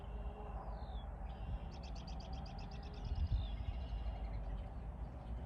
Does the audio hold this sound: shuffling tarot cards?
no